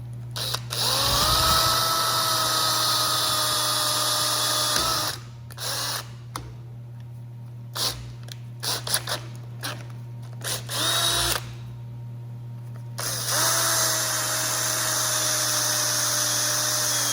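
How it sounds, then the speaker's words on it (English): Power drill boring a 1/4 inch hole in a C-10 truck body panel: a sustained high motor whine that runs for several seconds, stops, then comes back in short bursts and trigger pulses before a final longer run, close up with no talk. "So I'll go ahead and drill this now"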